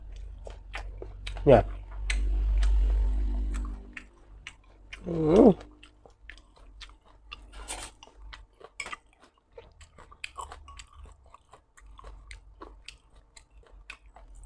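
Crunchy chewing of blanched fish skin from a dish of scalded fish served with dipping sauce, bursts of close crisp bites and chews repeating through the stretch, with a person talking over parts of it.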